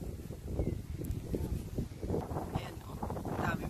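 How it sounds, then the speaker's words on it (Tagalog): Strong wind buffets the microphone outdoors near a large cherry tree, a gusty low roar with rustling throughout. "Medyo malakas ang hangin ngayon."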